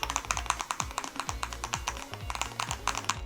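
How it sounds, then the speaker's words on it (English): Rapid clacky keystrokes on a mechanical keyboard, close and crisp, with an uneven typing rhythm and no voices. "here's a quick sound test"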